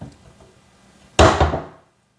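A kitchen cabinet door shuts with a single sharp wooden thunk, loud and close, ringing briefly before fading to silence after a quiet lead-in.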